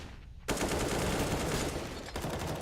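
Dense, continuous automatic gunfire from the Counter-Strike video game on the Mirage map, a sustained rattling barrage after a brief quiet start, loud and unbroken for about two seconds with a short dip near the end.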